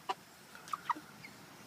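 Backyard chickens give a few short, sharp clucks, near and moderately loud, with quiet pauses between them.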